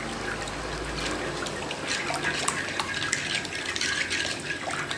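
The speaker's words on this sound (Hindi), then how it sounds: "थोड़ा थोड़ा करके दूध डालेंगे।" Milk poured little by little into a pasta dish cooking in a travel cylinder over a gas stove, a steady close liquid trickle and splash with no talking.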